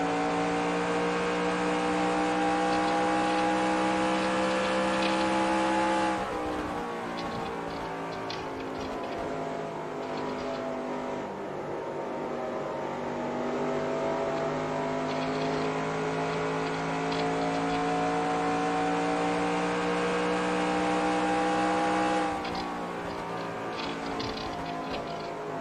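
Stock-car engines from the NASCAR Racing 2003 video game roar steadily and loudly throughout, the pitch sagging and then climbing again as the car lifts and accelerates late in a race on worn tires.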